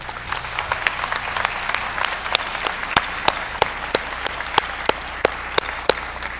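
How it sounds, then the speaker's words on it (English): A graduation ceremony audience gives a steady round of applause for two professors, dense clapping with a few sharper, louder claps standing out, sustained evenly throughout. "let's give a round of applause to Professors Acevedo and Cross"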